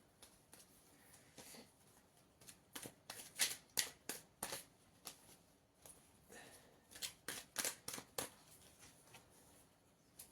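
Tarot cards being shuffled and drawn, a run of crisp riffling bursts and snaps in two clusters with quiet gaps between, close and fairly soft, no talking.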